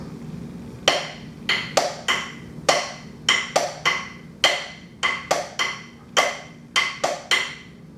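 Two hands tap out a 2-over-3 polyrhythm drill, a steady repeating pattern of sharp, bright percussive hits grouped in pairs and triplets, played alone over a low background hum.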